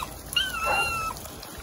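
A dog whimpers and whines outdoors near a dripping rock spring, with a few short high-pitched cries over steady background water noise, fairly close.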